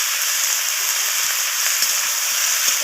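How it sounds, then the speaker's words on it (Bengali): Green peas sizzle in hot oil with mixed vegetables as they are stirred, a steady close frying hiss with light scraping touches. "মটরশুঁটিগুলোকেও আমি নাড়াচাড়া করে এর সাথে মিশিয়ে নিয়ে ভাজা ভাজা করে নিচ্ছি"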